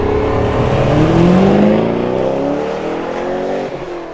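A stock LS1 V8 fitted in a Mazda RX-7 FD revs loud and close, its pitch climbing and sliding in smooth sweeps before the engine settles back down.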